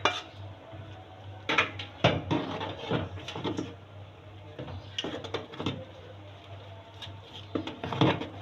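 A spoon scraping and clinking against a pan while chana dal halwa is stirred, irregular metallic knocks and scrapes in short clusters over a low steady hum, close by.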